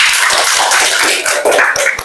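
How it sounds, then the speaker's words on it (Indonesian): A classroom full of students claps together at the end of a religious education lesson, loud close hand claps with some crisp rhythmic strikes standing out over a dense patter, ending in a brief flurry. "Oke, tepuk tangan untuk kita semua."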